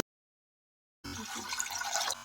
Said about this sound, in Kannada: ಟೊಮೊಟೊ ಸಾಸ್ಗೆ ಮೊದಲು ಸ್ವಲ್ಪ ನೀರು ಹಾಕ್ಕೊಳ್ಳೋಣ